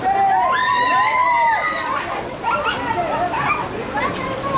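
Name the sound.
crowd of boys cheering at Dahi Handi festival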